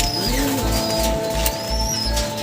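Soft, repeated racing pigeon coos close by, a steady low rumbling murmur over a constant background hum, with a faint chirp or two.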